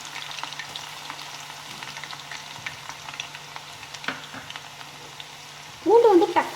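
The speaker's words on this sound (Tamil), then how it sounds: "இப்போ இதே எண்ணெயில் நாம் இந்த நசுக்கின பூண்டையும் சேர்த்து அதையும் பொன்னிறமாக வதக்கி எடுத்துக்கலாம்." Crushed garlic frying in oil in a pan, a soft steady sizzle with faint crackles running throughout, ending in a brief louder clatter of stirring.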